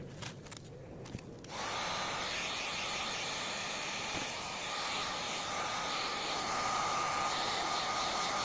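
A heat gun blows steadily and loudly to warm self-adhesive material for goggles, starting after a few brief handling clicks and then running continuously up close.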